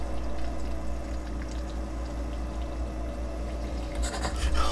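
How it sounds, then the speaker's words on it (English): Water pours and splashes inside the horror video game Smigmore's Nightmare: a steady rushing wash that runs throughout, swelling with brighter splashy bursts near the end. "Now it's pouring water everywhere!"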